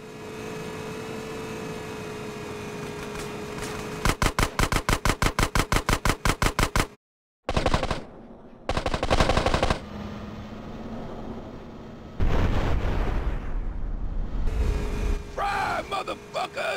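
Rapid automatic gunfire rattles in fast bursts during a GTA San Andreas shootout, mixed with engine roar, a sudden silent gap and further game noise.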